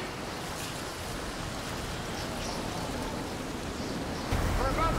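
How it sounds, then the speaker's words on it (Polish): Hurricane-force wind above 150 km/h roars as a steady, loud, dense rush with no pauses, swelling slightly stronger in the final second. "Wiatr przekracza 150 na godzinę."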